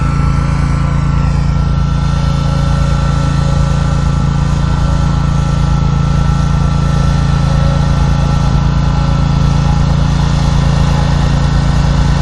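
A riding lawn mower's small engine runs continuously, loud and close, with a steady droning hum that holds constant throughout and no voices.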